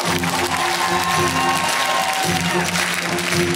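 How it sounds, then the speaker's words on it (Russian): A live improv show audience claps to welcome a guest onstage, a dense continuous applause with a crowd murmur beneath it over a few seconds. "Заходим, пожалуйста, встретим аплодисментами."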